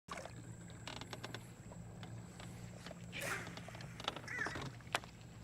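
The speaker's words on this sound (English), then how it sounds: "I hear you, bird." Crow-like caws from a bird near a lake, heard a few times in the second half over a steady low outboard-type hum and light water and boat noise, moderately distant.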